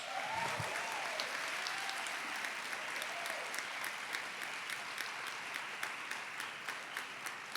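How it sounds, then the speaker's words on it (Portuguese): Church congregation applause during a sermon on consecration, a long, steady, moderately distant patter of many hands clapping, with a brief vocal sound near the start and faint shouts under the clapping. "Pode aplaudir, é consagração."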